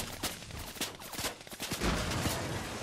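Rapid bursts of gunfire in a competitive shooter video game, a cash cup match, crackling in quick volleys with short gaps, fairly loud and continuous throughout with no talking.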